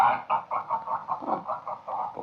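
A rooster sounds off in an outdoor Western setting, a loud close run of rhythmic clucking pulses repeating about every quarter second with no talk over it.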